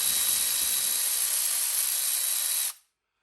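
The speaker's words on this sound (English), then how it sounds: "I remove the 10mm bolt here now." A power tool whines loudly and steadily at high pitch while removing a 10mm bolt from an Opel Vectra 1.9 CDTi Z19DTH diesel engine during a timing belt job, then cuts off abruptly into silence.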